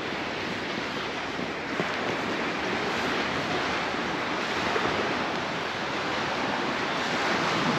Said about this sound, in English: there's a few waves there hitting the beach